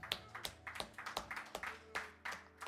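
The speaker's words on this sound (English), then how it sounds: "Round of applause for Soul Food" Audience clapping at an open mic night at a venue called Soul Food, a ragged run of close handclaps with uneven rhythm, a small crowd applauding throughout.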